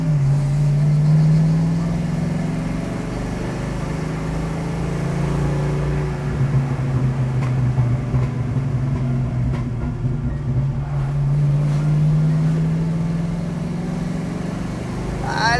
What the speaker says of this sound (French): Tu veux qu'on fasse une petite accélération?